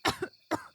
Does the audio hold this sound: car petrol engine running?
no